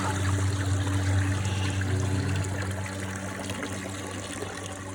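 Water flows and trickles steadily from a borehole with a constant low hum underneath, continuous and close, fading slightly toward the end.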